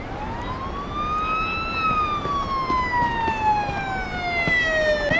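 A wailing emergency siren, like a police car or ambulance, rises then slowly falls in pitch, loud and close, with traffic rumble underneath.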